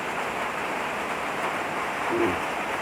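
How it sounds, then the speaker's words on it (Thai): Steady rain falls outdoors while fresh limes are being prepared, a dense, even hiss holding at the same level throughout with no voices over it. "ตอนนี้ฝนก็กำลังตกอยู่เนาะ"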